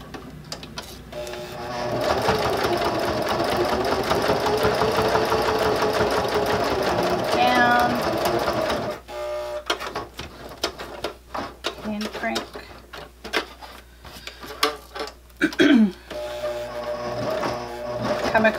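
Sewing machine stitching a bag handle cover, partly hand-cranked for better control: a steady motor whir for several seconds, then slower irregular ticking and clunks of hand-cranked stitches, close and moderately loud.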